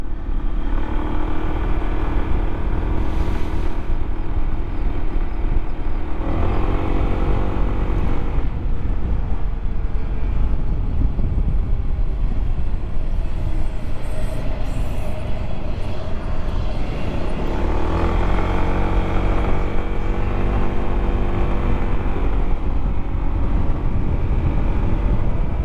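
A Honda ADV 150 scooter rides along with a loud, constant engine drone and heavy wind rush, the engine note swelling and easing a few times, with no talking.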